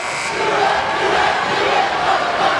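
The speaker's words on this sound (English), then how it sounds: "Super fans trying to pump up their crowd" Basketball super fans at a high school game yell and cheer together to rouse the crowd, a loud, dense wall of voices that stays steady and close throughout.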